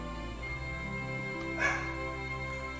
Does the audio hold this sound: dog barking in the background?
yes